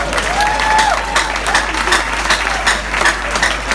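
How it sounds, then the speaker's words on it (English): A wedding crowd claps steadily and fairly loudly, the applause filling the space continuously with a brief higher tone sliding over it early on. "Now clap one more time."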